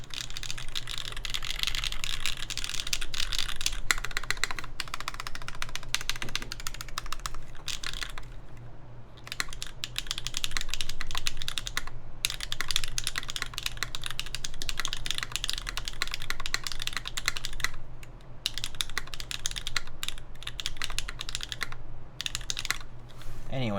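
Steady, continuous typing on a Linworks Dolphin 60 mechanical keyboard fitted with Bingsu switches, a dense close patter of keystrokes with a few brief pauses over a low background hum.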